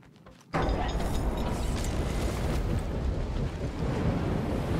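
Steady roaring wind gusts sweep across an outdoor area in the action-adventure game Marvel's Guardians of the Galaxy, a loud continuous broadband rush that begins abruptly after a brief quiet moment and holds without pause.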